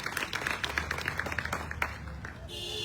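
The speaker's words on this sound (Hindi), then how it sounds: "मैं चाहूंगा कि जोरदार तालियों के साथ उनका स्वागत" Audience applause welcoming a guest at a BJP political function, a scattered run of claps in the foreground that fades out after about two seconds.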